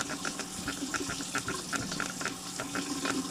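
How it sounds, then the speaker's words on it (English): Tap water runs in a sink to rinse a dusty coffee maker part, a steady splashing gush with faint rhythmic clinks of the piece being handled under the stream. "Going to give it a rinse too"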